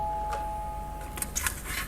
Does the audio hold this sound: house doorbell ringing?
yes